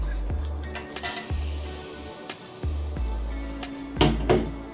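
Bay leaves, cloves and cardamoms stirred in a pot, heard as a few light clinks and scrapes of a utensil against metal over a steady low hum, close and moderate in loudness.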